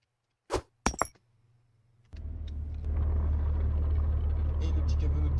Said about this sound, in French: Et le petit camion à notre disposition